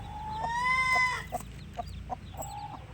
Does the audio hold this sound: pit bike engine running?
no